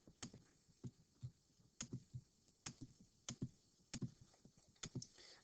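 Buttons pressed on a calculator while typing in two equations, a quiet series of irregular sharp clicks and taps, close and alone.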